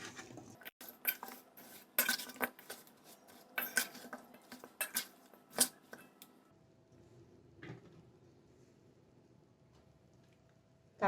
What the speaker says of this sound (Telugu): ఇవన్నీ బాగా కలుపుకోవాలి.